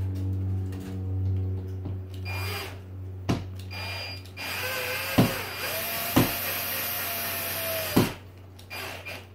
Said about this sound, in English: Now I'm using a screw gun